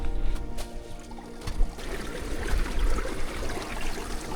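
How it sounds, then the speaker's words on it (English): Meltwater runs beneath a Patagonian glacier, heard from on top of the ice as a steady, soft rushing flow with faint gurgling, low and continuous throughout. "You can hear the water running below."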